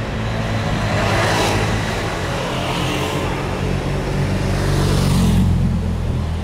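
Cars pass along a street in Bari, Italy, with a steady broad traffic wash and two swelling pass-bys, one near the start and a louder one toward the end, with no talk.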